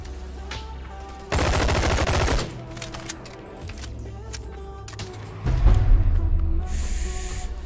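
Rapid automatic gunfire in the VR game Bonelab, a dense sustained burst followed by scattered single shots, another heavy burst and a hissing spray at the end, loud and close.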